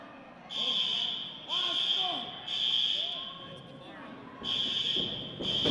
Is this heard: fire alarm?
yes